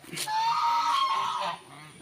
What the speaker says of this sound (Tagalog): Ito may mga gansa.